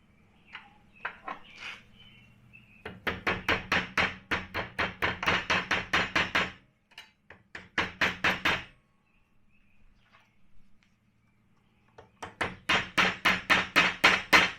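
A drift pin is hammered through a metal cylinder mount for a tube bender in several bursts of rapid, ringing blows, each run of strikes broken by short pauses and a few scattered taps, loud and close with no talking.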